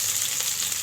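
Whole garam masala spices sizzle in hot oil in a kadai, a steady, close crackling hiss with no voices.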